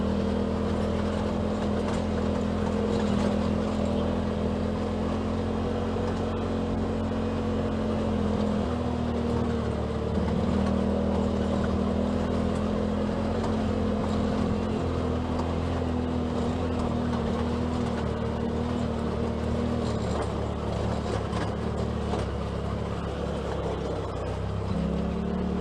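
A 2018 Polaris RZR XP Turbo side-by-side driving on a mountain trail, its engine a steady, loud droning hum with a low rumble that holds fairly even throughout, with slight shifts in pitch.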